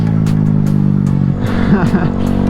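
A Honda Grom motorcycle engine idles with a steady low rumble, then revs up and down in quick rising and falling bursts, close and loud.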